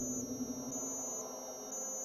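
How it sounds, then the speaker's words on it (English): A piercing, steady high-pitched electronic whine in the video game F.E.A.R. pulses on and off about every half second over a low background hum. "I hate high pitched sounds like that in older games."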